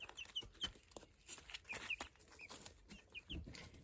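Cream Legbar hens cluck and make soft squawks close by in a busy, irregular stream, with scattered rustling and thumps around them.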